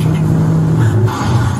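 A loud car engine rumbles and revs steadily on a private racetrack, a continuous low drone with a slight pitch change partway through and no talking.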